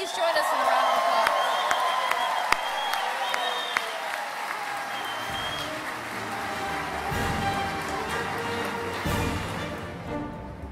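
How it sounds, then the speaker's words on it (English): A dinner audience breaks into loud, sustained applause with some cheering and whoops. The clapping gradually thins, and faint voices carry underneath. "Please join us in a round of applause."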